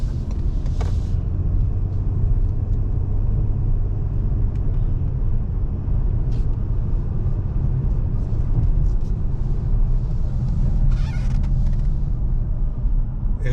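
2017 Ford Explorer Police Interceptor SUV cruising straight down a road, heard from inside as a loud, steady low rumble of road and engine noise throughout, with no talking.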